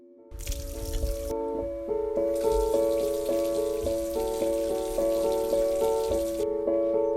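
Water runs from a tap as a steady, soft hiss lasting several seconds, then stops, heard under sustained background music.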